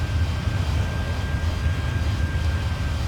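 McDonnell Douglas DC-10-40D jet engines in Microsoft Flight Simulator give off a steady, even roar with a deep low drone and a faint high whine, heard from inside the aircraft with no talking.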